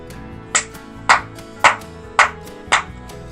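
Five sharp hand claps land at an even, steady pace, each one crisp and close, marking sync points between recorded takes over a faint steady tonal hum.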